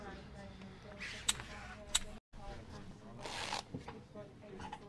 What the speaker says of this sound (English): Tell that girl to do her job and shuffle those cards right.